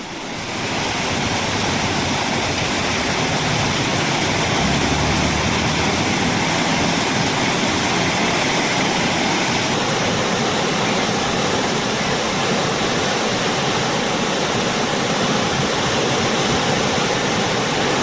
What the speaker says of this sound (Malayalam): തൊട്ടിൽപ്പാലം പുഴയിൽ മലവെള്ളപ്പാച്ചിൽ അപകട ഭീഷണി ഉയർത്തുന്നുണ്ട്